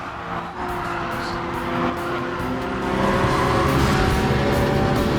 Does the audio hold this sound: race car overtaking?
yes